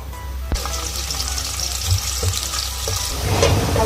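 Onions frying in oil in a pan for a bottle-gourd peel bhujia, giving a steady close sizzle with a sharp clatter near the start and a few light stirring knocks.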